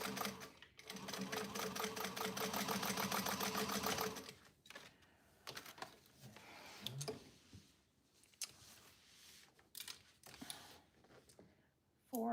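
A sewing machine stitching a tote bag runs in a fast, even whir for about four seconds, then falls to quieter handling and short bursts of stitching.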